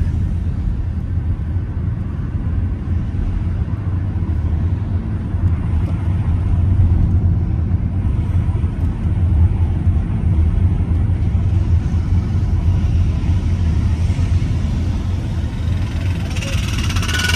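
A car drives along a road during a driving lesson, its interior filled with a steady low engine and road rumble throughout, with a faint voice now and then underneath.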